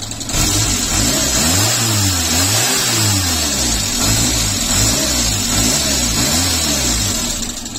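Renault Super 5 with a faulty ignition harness revving under hesitant acceleration: the engine pitch swings up and down repeatedly in uneven, stuttering surges, loud and close with no talk over it.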